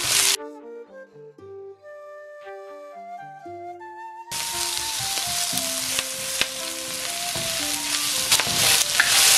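Chopped onion and garlic sautéing in hot oil in a pan for chicken chop suey, a loud steady sizzle with occasional stirring scrapes. It follows a short melodic musical intro.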